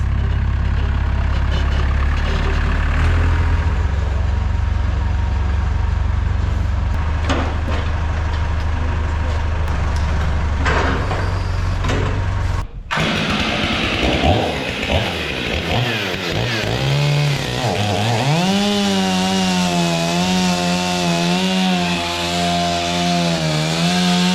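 Sawmill cutting a Pecky cypress log: a loud, gritty blade roar runs for about half the time, drops off abruptly, then a motor whines and rises and falls in pitch as machinery works, close and continuous with no talking.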